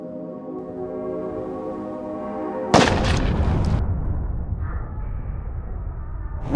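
A bullet fired into a chilled ballistic gelatin block gives one sharp, loud report that cuts through a steady background hum, followed by a few seconds of decaying rumble and noise.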